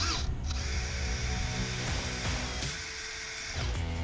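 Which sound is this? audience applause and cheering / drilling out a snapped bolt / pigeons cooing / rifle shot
drilling out a snapped bolt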